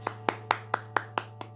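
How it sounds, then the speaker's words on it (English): Children clap their hands in a slow, even rhythm, seven crisp claps spaced evenly, with a steady low hum running underneath. "Give yourself a big clap"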